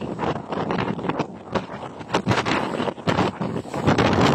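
Strong wind gusts buffet the microphone on the stormy Black Sea coast at Constanța, with a steady loud roar and sharp bursts of blustery noise throughout.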